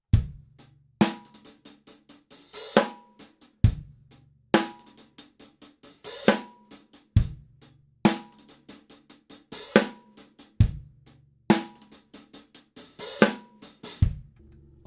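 A drum kit plays a steady groove, kick and snare backbeat with busy hi-hat flourishes between hits, repeating every bar.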